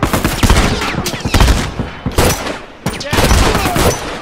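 Gunfire in The Last of Us Remastered online multiplayer, loud close bursts of rapid shots in several clusters with brief pauses, mixed with game sounds and some talk.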